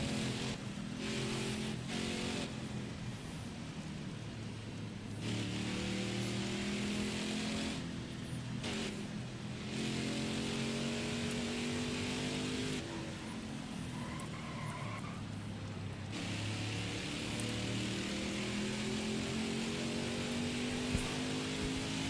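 Race car engines in NASCAR Heat 5 roar around Watkins Glen, run mostly in fourth gear during a Clint Bowyer season race. The engines drone steadily and loudly, their pitch climbing and falling through long pulls, with no talking.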